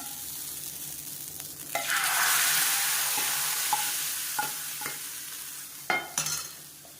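Sizzling tempering of mustard seeds, urad dal, cumin, dried red chillies and curry leaves poured into a Thiruvathirai seven-vegetable kootu, a loud hissing burst that settles into steady frying, with a few sharp clatters of stirring near the end.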